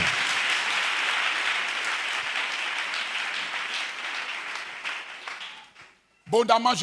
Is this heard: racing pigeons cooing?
no